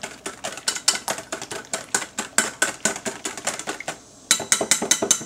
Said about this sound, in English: whisk it up again